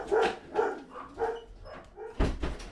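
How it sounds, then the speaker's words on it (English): Several dogs bark in a string of rhythmic barks with a few yips, fairly near and loud, ending with a louder burst, and no one talks over them. "Oh, there's the dogs."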